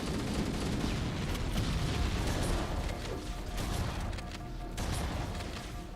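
Dense, continuous video game gunfire with heavy booming blasts, as from rifles and a rocket launcher, rolling loudly without pause throughout.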